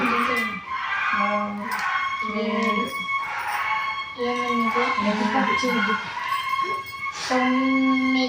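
Dogs howling close by in long, repeated wails and whimpers, broken by short pauses between each cry.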